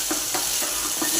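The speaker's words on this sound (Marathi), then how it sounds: "छान परतले गेले पाहिजे आपण। हे पहा, त्याला हे तेल सुटायला लागले वाटणाला।" Masala paste for a sprouted moong curry sautéing in oil until the oil separates, a steady close sizzle with rhythmic stirring scrapes about every quarter second; no voices.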